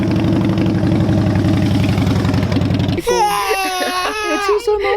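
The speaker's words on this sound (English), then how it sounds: "It's just a motorcycle" A motorcycle engine idles with a loud, close, rapid rumbling pulse for about three seconds, then a baby starts crying over it.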